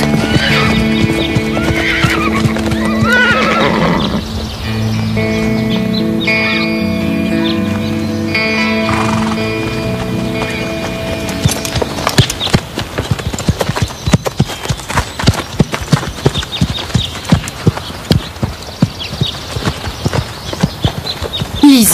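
A horse neighs loudly over a musical backdrop, then hooves pound in a fast, steady galloping rhythm that continues close and strong to the end.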